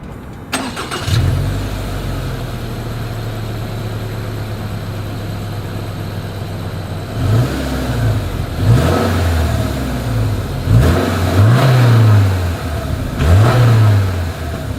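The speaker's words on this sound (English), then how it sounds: "As always, here is that exhaust clip." A 2023 Subaru Outback idles with a low steady exhaust note, then several short revs rise and fall in turn, heard up close from the exhaust and alone with no talking.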